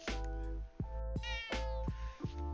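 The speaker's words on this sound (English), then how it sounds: "Oh, my cat's meowing." A pet cat meows loudly and repeatedly at close range, several drawn-out, strained calls in quick succession.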